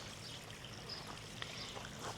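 A garden pond waterfall runs as a soft, steady trickle and splash, quiet and continuous with no talking.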